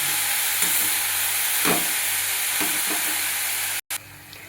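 Chopped dill greens sizzle and hiss in a hot pan as they are stirred, with a continuous frying crackle and a few soft scrapes, cutting out briefly near the end.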